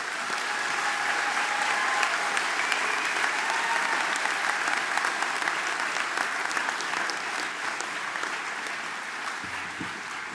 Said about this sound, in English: Let's give them one more big round of applause for all of our graduates